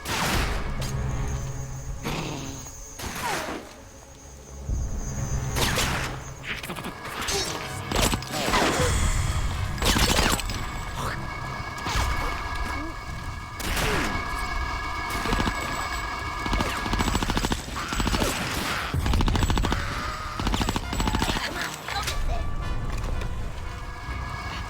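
Sustained automatic gunfire from the video game Conker: Live & Reloaded, dense rapid bursts with crashes and impacts layered over game music, loud and continuous.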